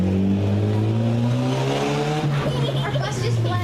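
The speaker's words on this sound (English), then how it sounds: "Our bus just left." Tour bus pulling away, a loud, steady engine drone whose pitch slides upward as it accelerates, with people talking nearby.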